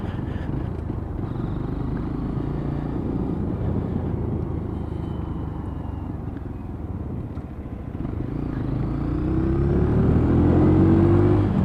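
Lexmoto Tempest E5 motorcycle on the road, a steady low engine drone with wind rumble that rises toward the end as the rider accelerates.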